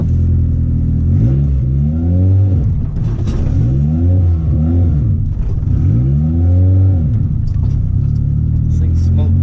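A first car, a smoky older model, revs and pulls away, its engine rising and falling in pitch through repeated accelerations, loud and rumbling up close with faint talk beneath.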